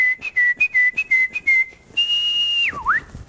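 A person imitates a bird call by whistling, with quick chirping trills and then a long held note that dips and rises, loud and close, with no talking.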